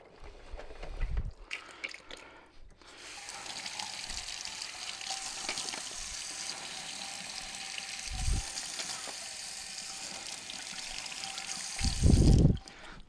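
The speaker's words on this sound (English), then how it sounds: "All we're doing is just rinsing the soap suds out and whatever else may be caught in there." Water runs steadily from a tap as soap suds are rinsed out of small 15ml e-liquid bottles, a continuous close splashing trickle with a few louder splashes and knocks of the plastic bottles.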